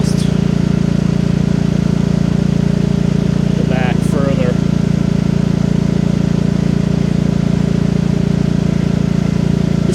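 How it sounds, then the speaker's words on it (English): A Champion 8750 tri-fuel generator, warmed up after running fifteen to twenty minutes, drones steadily and loudly from inside a DIY shed enclosure in freezing 15°F cold, a constant low hum while someone briefly speaks. "The generator has been running for about 15 or 20 minutes now, so it's starting to warm up"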